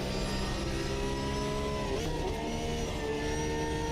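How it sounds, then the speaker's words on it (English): Race car engine in the racing video game Automobilista 2, a sustained buzzing drone with layered harmonic tones that rise and dip slightly as the revs change, constant and fairly prominent. "This car's engine note's a bit weird."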